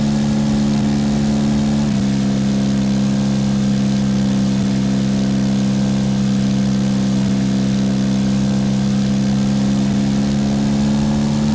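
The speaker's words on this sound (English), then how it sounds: "The first clip shows the aircraft in a 3-second climb, cutting to a clip of the aircraft stalling." A simulated aircraft engine in the X-Plane flight simulator game drones steadily during a climb, a loud continuous hum with a constant tone and no voices.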